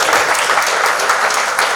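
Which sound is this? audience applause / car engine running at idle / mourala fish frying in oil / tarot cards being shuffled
audience applause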